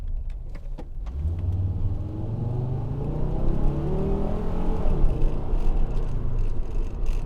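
A 1992 Acura Vigor LS with a non-V6 engine accelerating, the engine note rising steadily in pitch through the gears as it pulls harder, heard from inside the car with a few light clicks early on.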